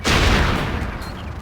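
Gunfire aimed at the player in the video game Buck Bumble, a sudden loud blast bursting out and trailing into a rumbling, crackling decay over about a second, with no voices.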